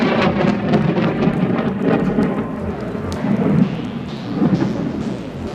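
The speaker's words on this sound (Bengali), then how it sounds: "কিন্তু হঠাৎ একটি বজ্রপাত তাদেরকে চমকে দেয়।" Thunder from a lightning strike rolls and rumbles over steady, heavy rain at a beach wedding, with a continuous hiss of rain on surfaces and swelling low booms.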